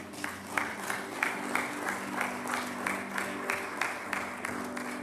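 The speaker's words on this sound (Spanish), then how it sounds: "Den un aplauso al Señor." Church congregation applause at the close of a Spanish-language service, rhythmic group clapping in a regular beat over a steady background hum.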